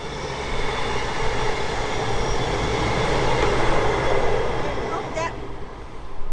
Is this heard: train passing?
yes